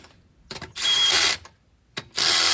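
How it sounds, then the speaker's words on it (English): Ratchet clicking as lug nuts go onto a Toyota 4Runner wheel during a CV axle replacement, two loud close bursts of rapid clicks separated by brief pauses, with no talking. "we're gonna go ahead and grab our wheel, put a few lug nuts on"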